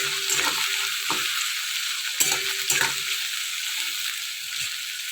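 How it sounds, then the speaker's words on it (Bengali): Whole cumin seeds crackle and sizzle in hot oil for a loach fish curry, a steady bright frying hiss with a few sharper pops and stirring knocks close by, no talking. "তেলের মধ্যে একটু গোটা জিরা ফোড়ন দিয়েছি"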